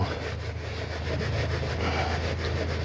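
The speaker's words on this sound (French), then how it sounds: "Et je frotte délicatement." Carpet or leather is rubbed gently to lift dog hair, making a continuous close, even scrubbing and brushing noise with no pauses.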